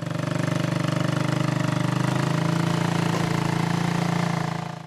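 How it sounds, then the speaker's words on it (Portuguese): The engine of a homemade motorcycle built by a rural worker, able to reverse and tow a car, runs continuously with a loud, steady, rapidly pulsing rumble and no talking. "Que tal uma moto que dá marcha ré e consegue puxar um carro?"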